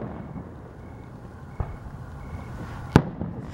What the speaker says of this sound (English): This is a very great Firework show.